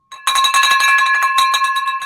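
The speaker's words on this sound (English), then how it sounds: "There's the bell." A bell rung to celebrate a closed wholesale real estate deal, struck rapidly over and over so its bright, sustained ringing tone stays loud and steady throughout, with no talk over it.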